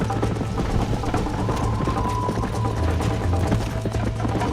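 A horse gallops in the Western video game Red Dead Redemption, steady rapid hoofbeats under a continuous game soundscape with a faint tonal hum.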